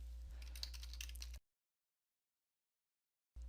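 Computer keyboard keys typed in a quick, close burst of clicks for about a second and a half, then a stretch of dead silence before faint noise returns at the end.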